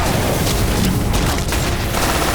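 An explosive barrel blows up in the shooter game Left 4 Dead 2, a loud, dense blast mixed with rapid gunfire and rumbling, sustained and close throughout.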